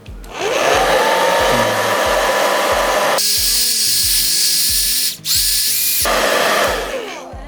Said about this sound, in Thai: เดี๋ยวเราจะลองเอาไดร์เป่าผม มาเป่านะครับ เพื่อให้มันแกะได้ง่ายขึ้นนะครับ